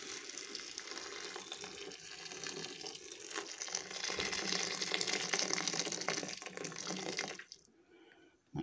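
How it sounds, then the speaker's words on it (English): Hot water is poured into a cooking pan meant for potato cubes, a steady close gushing splash lasting several seconds before it stops abruptly. "before adding those, you need to put in some hot water"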